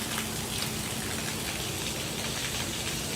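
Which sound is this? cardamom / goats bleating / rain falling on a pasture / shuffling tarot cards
rain falling on a pasture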